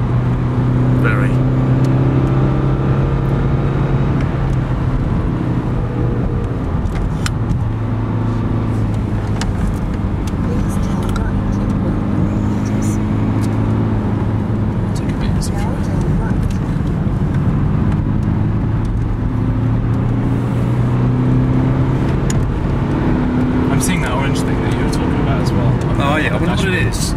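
A BMW road car is heard from inside while driving the Nurburgring, its engine droning and rising and falling through gear changes under continuous conversation between driver and passenger.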